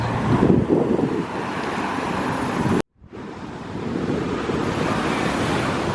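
Ocean surf crashes against the Malecón seawall in Santo Domingo, a steady roar of waves mixed with wind buffeting the microphone, with a brief dropout partway through.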